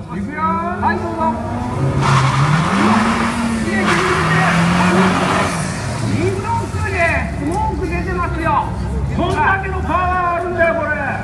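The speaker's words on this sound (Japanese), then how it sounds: "どのぐらいホイールスピンするかで分かってもらおう" A Honda car's engine revs and tires squeal through a wheelspin at the Tokyo Auto Salon, with people talking and laughing over it the whole time.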